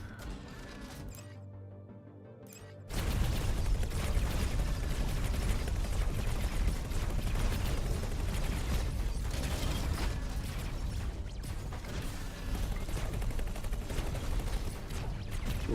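Rapid mechanical clatter of a bolt repeater weapon firing continuously in the space game X4, dense and loud after a quieter opening, with no talking.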